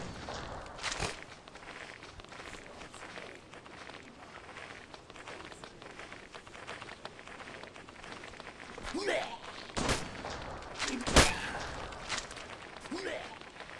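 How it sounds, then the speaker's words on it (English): Footstep sound effects in a video game in development, a steady run of soft repeated steps with a few louder thumps and clicks, heard with faint talk over the top. "Let's see if we can get away from all these footstep sounds."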